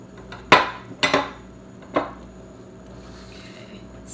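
Spatula scraping pancake batter across a baking sheet to push it to the pan's edges, heard as three short, sharp scuffs close by, separated by quiet gaps.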